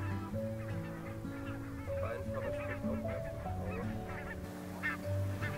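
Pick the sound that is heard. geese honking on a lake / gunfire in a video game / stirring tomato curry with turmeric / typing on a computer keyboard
geese honking on a lake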